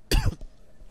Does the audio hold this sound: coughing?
yes